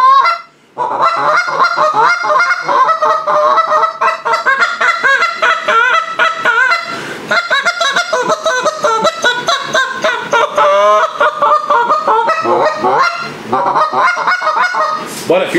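Goose call fitted with a Gray Guts insert, blown continuously in a fast series of honks, clucks and moans, loud and close with no talking.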